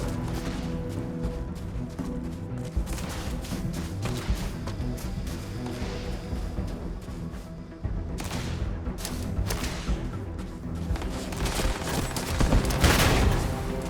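Sustained gunfire and explosions in the video game Starfield, dense overlapping bursts of rapid shots and booms that intensify toward the end, loud and continuous.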